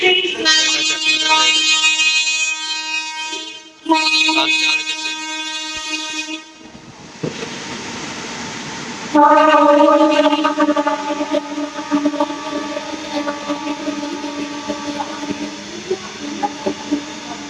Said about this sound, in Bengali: এটা মালগাড়ি, সেই জন্য বেশি বড় এটা